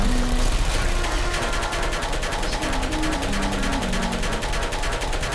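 Rapid automatic fire from turrets in the video game Portal 2, a steady stream of closely spaced shots running throughout under a low musical hum.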